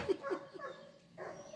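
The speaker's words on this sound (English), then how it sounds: "The dogs are barking." A couple of faint, quick dog barks sound at a distance in short succession, followed by softer whimpering yips, all low and brief.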